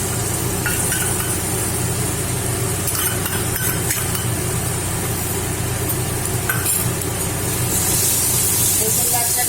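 Garlic paste frying in a hot pan gives a steady, loud hiss and sizzle that carries evenly through the whole stretch, with faint clinks near its close.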